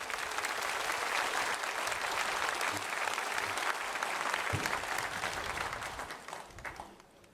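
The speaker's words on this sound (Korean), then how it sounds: "나오실 때 박수로 환영하겠습니다." A church congregation at Sunday worship applauds steadily to welcome the guest preacher, a dense wash of clapping that fades away in the final second.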